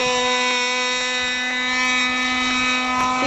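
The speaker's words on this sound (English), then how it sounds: "Still trying to start that backup airplane. I think he's got it now." A small two-stroke model engine on an RC pylon race airplane, a backup plane being started, runs steadily at a high-pitched whine with faint periodic blips, loud and close without anyone talking.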